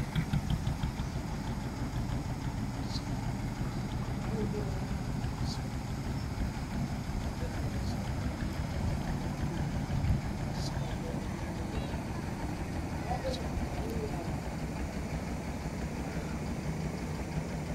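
The engine of a ferry boat carrying passengers across the Turag River hums in a steady, continuous low rumble throughout, with faint higher sounds now and then over the drone.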